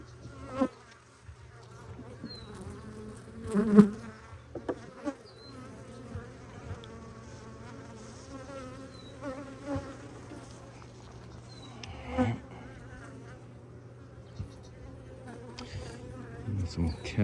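Honey bees buzz steadily throughout a hive inspection after smoking, a dense continuous drone with occasional louder passes near the listener and faint handling sounds.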